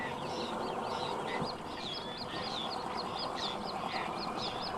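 Birds call constantly at a breeding colony on wooded and sandy river islands, a busy overlapping chorus of squawks and chatter over a steady noisy background.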